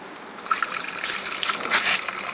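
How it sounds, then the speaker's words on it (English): Backwash water flowing out of a filtration tank pipe at a water treatment pilot plant, a steady splashing trickle and gush heard up close with no talk. "You can easily see that the backwash water is also coming out."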